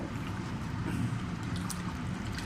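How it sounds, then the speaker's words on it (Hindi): Two glasses of water poured into a pot of potato and pea curry, a continuous close splashing gush of liquid lasting a couple of seconds with no talk. "अब इसमें हम 2 गिलास पानी ऐड कर देंगे।"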